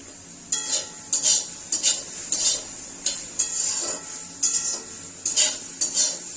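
A utensil stirring water lily curry with mustard in a metal pan, giving a series of sharp, close scraping clinks in an irregular rhythm over a faint sizzle.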